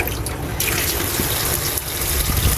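Tap water runs steadily into a cooking pot with a continuous rushing, splashing gush, close and fairly loud, with no voices.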